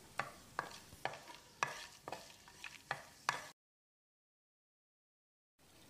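Whole spices, including green and black cardamom, scraped and stirred in a dry pan for laal maas, a quick series of sharp clinks and rattles for several seconds, then silence, then faint rustling resumes.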